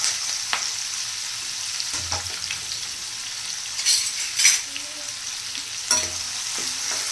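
Chopped onion fries with asafoetida and curry leaves in hot oil, a continuous near hiss broken by a few sharper spatula scrapes and clinks against the pan.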